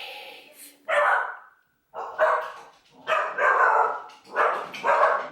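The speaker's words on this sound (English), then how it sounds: "Are you barking at the Shibas?" A dog barks repeatedly in loud, close bursts, about five barks with short pauses between them.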